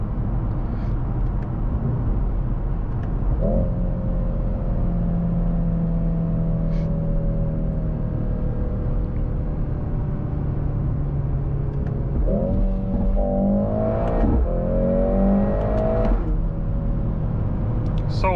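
A 2024 Mercedes-AMG GLC 63 S accelerating at full power in third gear on a night drive, its engine note climbing steadily and then surging in quick rising pulls near the end, heard from inside the car.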